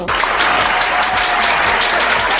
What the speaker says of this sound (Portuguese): Recebam com palmas a Gideão!